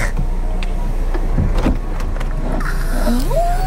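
The convertible roof of a rental car in Hawaii opens on its motor, whirring and clicking up close with a rising mechanical whine at the end over a steady background rumble.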